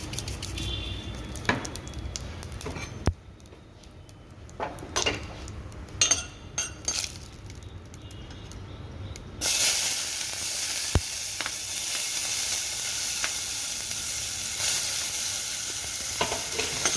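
Spices for tempering sizzle in hot oil inside a preheated AMC pot for potato and tomato curry, a soft crackle breaking into a loud, steady sizzle partway through, with occasional spoon clinks.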